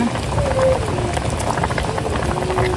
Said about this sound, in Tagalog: Kuluan na po itong aking niluluto.